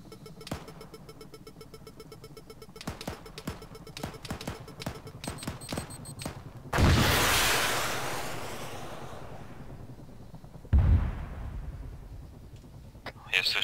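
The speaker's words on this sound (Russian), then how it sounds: "Я слышу взрыв. Я вертушку сбил." A shot-down helicopter explodes in the ArmA 3 military game: after a run of sharp crackling gunfire, a loud roaring blast swells and slowly fades, followed by a second heavy boom, with no speech over it.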